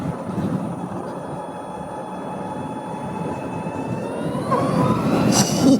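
A Harley-Davidson LiveWire electric motorcycle accelerating on a light throttle pull, a smooth rising whine with a steady rushing roar beneath. The whine climbs in pitch and grows louder toward the end, with no combustion engine pulses.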